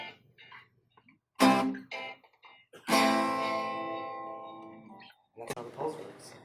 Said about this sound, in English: And now you have echo, the delay effect,